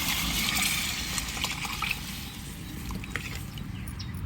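A mix of tamarind water, chili powder and tomato is poured into a cooking pan for fish curry, making a steady, close trickling and splashing sound with no one talking.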